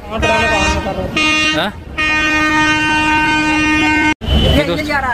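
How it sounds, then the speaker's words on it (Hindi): A train's horn toots repeatedly and loudly as it arrives at a railway station on a journey from Morena to Delhi, sustained blasts with short breaks, mixed with station bustle and a person talking. "अपनी ट्रेन आ चुकी है।"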